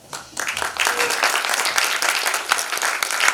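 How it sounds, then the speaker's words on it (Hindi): Audience applause at a Hindi stage play, a dense wash of many hands clapping that starts abruptly and holds steady and fairly loud to the end. "अगर आप लोग को अच्छा लगे तो तालियां जरूर बजाइएगा"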